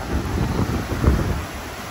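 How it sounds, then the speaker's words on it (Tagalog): Strong typhoon wind roars steadily across the microphone, with a dull rumble of sea waves underneath on a coast in Tigbauan, continuous and loud throughout. "Malakas yung alon kasi malakas ang hangin."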